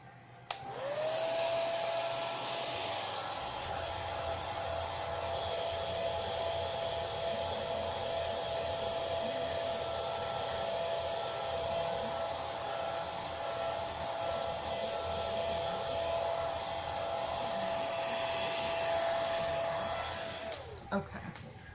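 A hair dryer blows continuously on a rusty nut, a loud steady whooshing roar with a constant whine that starts abruptly and cuts off near the end, with no voices.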